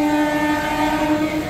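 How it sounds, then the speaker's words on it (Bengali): A train near a signal on the Kolkata to Kalka route sounds a long, steady horn blast that holds loud and unbroken over rail noise, with no talk. "ট্রেন ছেড়ে দেবে"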